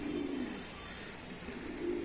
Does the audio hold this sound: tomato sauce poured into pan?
no